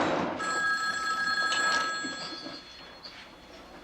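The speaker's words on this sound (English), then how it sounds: "Aren't you going to answer the phone?" A telephone rings in a sitcom home, a bright electronic bell trilling in a couple of bursts, close and clear with faint room noise and no talk over it.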